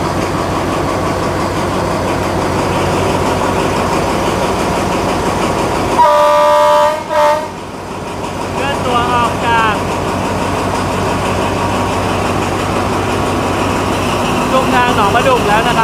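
Alsthom locomotive 4225 pulls ordinary train 255 into Nong Pla Duk station in Thailand with a loud, continuous rolling rumble. A horn blast sounds midway, and wheels clatter over the rails afterward.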